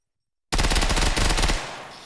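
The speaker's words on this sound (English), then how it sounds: "Submachine gun." A video game submachine gun fires a rapid, loud burst of shots for about a second, then pauses briefly and fires a second burst that trails off, preceded by silence.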